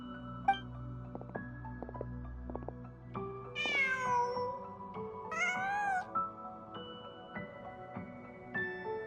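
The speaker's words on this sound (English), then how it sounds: "Huh. Just a cat." A cat meows in a video game: a couple of short, high-pitched mews that stand out over soft background music, with no one talking.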